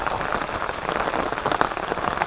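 Rain arriving and falling steadily, a dense close hiss of drops pattering on surfaces, continuous and fairly loud with no talking over it.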